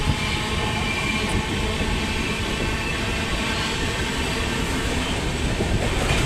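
The Secunderabad–Sirpur Kagaznagar superfast express runs along the track with a continuous loud rumble and rattle of wagons, a faint wheel squeal and rhythmic clatter, heard from on board without talk.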